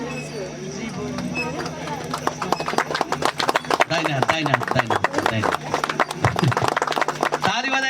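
A crowd at a Nepali wedding ceremony claps hard and fast, a dense, loud run of overlapping hand claps that builds and keeps going, with voices chanting over it.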